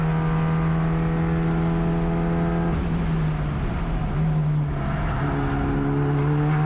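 Mitsubishi Evolution at Thunder Hill East race track, engine droning loudly and steadily from inside the car, briefly dipping mid-clip as the driver comes back on the gas out of a corner, then pulling strongly again.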